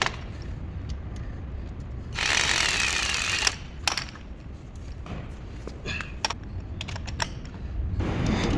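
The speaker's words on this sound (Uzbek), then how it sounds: "Shkaf orqa qismini shurup bolt orqali qotirib chiqamiz." Bolts being screwed into the back panel of a steel office document cabinet during assembly, heard as a burst of grinding, whirring mechanical noise followed by scattered metallic clicks and taps, close by, with no talk.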